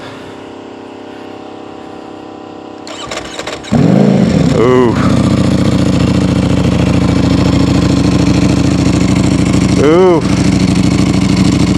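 A 2026 Aprilia RSV4 Factory motorcycle is cranked and fires into a loud, close, steady idle, with two brief revs blipping above it as people exclaim nearby.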